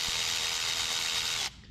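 A tensioner through bolt being run in on the engine of a 1992 Toyota pickup: a steady, close, loud mechanical whirring that holds for about a second and a half, then cuts off abruptly.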